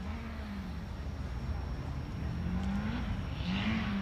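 Toyota Racing Toyota 86 race car with a 4-cylinder turbo engine on Nexen tires, heard at a distance during qualifying at a track, its engine note rising and falling through gear changes as a voice talks over it.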